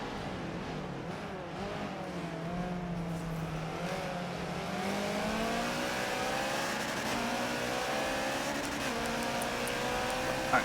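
Subaru BRZ and Honda S2000 race cars battle on the Homestead circuit, engines droning steadily with rising and falling revs as several cars run close together, loud and continuous throughout.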